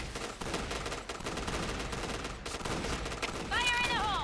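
Repeated shotgun blasts from the Cerberus three-barrel shotgun in the online shooter Point Blank, a dense run of loud shots over busy game noise with some talk and a brief tonal effect near the end.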